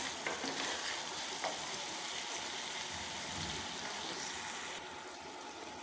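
Mashed tomatoes fry in a karahi for chicken karahi, giving a soft, steady sizzle with faint stirring scrapes, close by and fairly quiet throughout.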